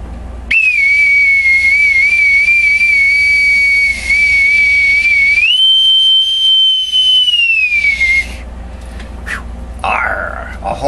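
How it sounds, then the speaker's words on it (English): A bosun's whistle pipes a long, shrill, sustained tone that holds steady, rises to a higher pitch, then slides back down before cutting off, followed by brief short blasts, loud and close. "With my official bosun's whistle."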